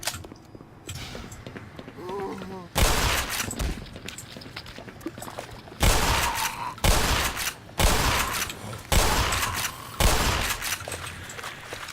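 Shotgun fire in the video game Black Mesa, with several loud, heavy blasts at irregular intervals after a quieter opening stretch of gameplay noise, a voice speaking briefly early on.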